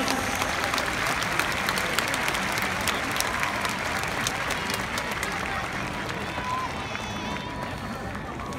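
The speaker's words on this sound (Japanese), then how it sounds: "皆さん大きな拍手お願いします" Crowd applause at a baseball stadium after an exhibition at-bat between retired players, a broad continuous roar of clapping from a large distant audience, steady and gradually easing toward the end.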